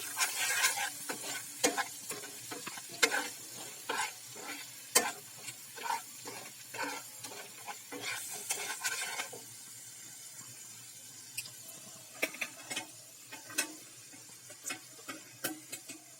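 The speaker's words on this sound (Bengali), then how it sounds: "এবার এটাকে হালকা আঁচে সামান্য ভেজে নিতে হবে।" A low-heat fry with turmeric and salt, made while cooking prawns in a milk and poppy-seed dish, gives a soft steady sizzle. Repeated spatula scrapes and taps come through it, and a brief splash of running water is heard.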